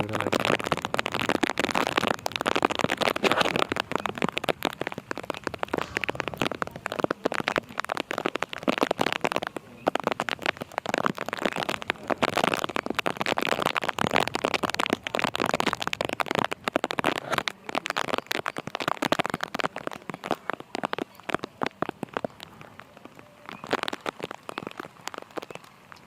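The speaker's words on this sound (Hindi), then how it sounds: "ये देखो जी, गजब का नज़ारा है बारिश" Steady rain pours down on a village house in the rainy season, a dense continuous patter and hiss of drops close to the microphone, unbroken throughout with no voices.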